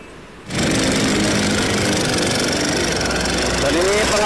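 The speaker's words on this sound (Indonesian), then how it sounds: "Dan ini pengeboran secara manual teman-teman ya" Manual drilling during overnight road repair, a loud continuous mechanical roar that starts abruptly after a brief quieter moment and holds steady, close to the listener.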